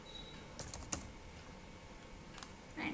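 Computer keyboard keys typed in a few sparse, quiet clicks while entering attribute values during GIS digitising, with a brief tap near the end over low room hiss.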